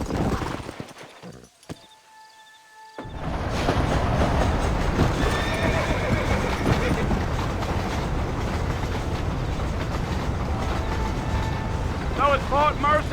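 In Red Dead Redemption, a horse lets out a loud neigh after a quiet opening, then hooves gallop in a steady rumbling clip-clop that continues for the rest of the stretch, with a voice heard briefly at the start.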